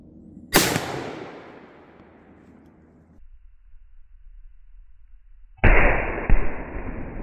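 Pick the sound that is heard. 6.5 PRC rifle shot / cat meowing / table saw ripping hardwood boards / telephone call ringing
6.5 PRC rifle shot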